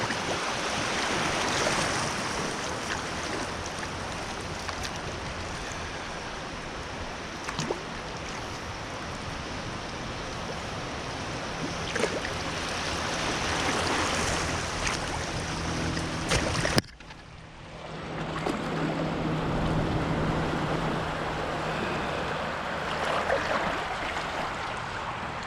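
Steady broadband rush of river water flowing around a kayak on a multi-day autumn camping trip, constant and fairly close throughout, briefly dipping near the end before resuming.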